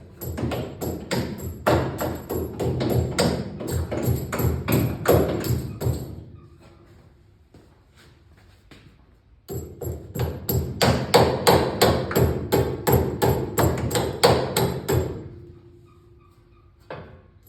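A hammer tapping a part onto an Impala engine: two runs of rapid, close, ringing metallic taps, each lasting about six seconds, with a quiet gap between them.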